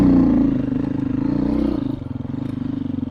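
Off-road motorcycle working slowly up a rocky trail, its engine a close, throbbing low chug that surges and then settles into a pulsing idle-like beat.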